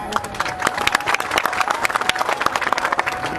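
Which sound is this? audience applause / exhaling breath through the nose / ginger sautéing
audience applause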